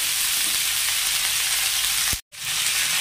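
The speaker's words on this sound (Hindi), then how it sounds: "इसको भी हम चलाते हुए अच्छे से भूनेंगे। इसको भी हम एक मिनट तक भून लेंगे तेज आंच में।" Kundru (ivy gourd) sabzi frying in a wok over high heat, a steady close hiss and sizzle that runs on without break apart from a brief dropout near the end.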